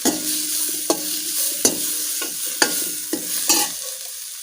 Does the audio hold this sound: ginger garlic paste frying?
yes